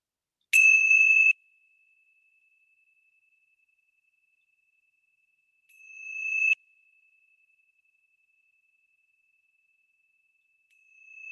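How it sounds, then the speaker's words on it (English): Three clear tones from the bells of hope ring out one after another at the start of a guided relaxation session, with long pauses between, each note sustaining and fading in an otherwise silent space. "let's begin our time with the ringing of the bells of hope."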